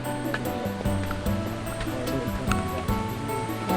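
A waterfall in forest on the Bolaven Plateau in southern Laos gives a steady, broad rushing roar that holds throughout, with faint voices and low tones mixed in.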